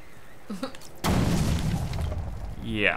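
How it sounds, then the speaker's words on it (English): A bomb goes off in Batman: Arkham Origins inside the GCPD building, a sudden loud boom that rolls into a sustained rumbling crash after a short quiet lead-in with a brief spoken word. "Huge explosion."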